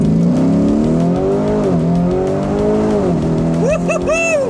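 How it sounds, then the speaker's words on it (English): A performance car launches hard off the line using launch control, its engine note climbing steadily and loudly through the revs, then rising sharply through quick shifts near the end, with no talking over it. "All right, let's see if we can do launch control."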